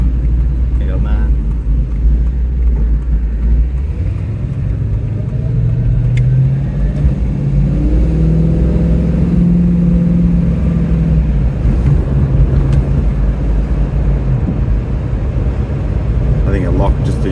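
A Holden VX car engine with nitrous running at full throttle, a loud continuous rumbling drone that rises in pitch midway, with people talking over it.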